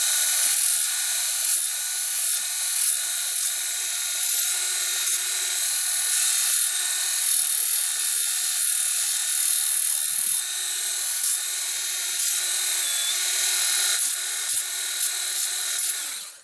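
A Milwaukee M12 FUEL 1/2 x 18 inch cordless bandfile grinds burrs off metal, a loud continuous high-pitched whine held steady for the whole stretch.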